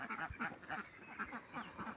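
A flock of domestic ducks quacks in a busy overlapping chorus, repeated nasal calls tumbling one after another, soft and fairly close.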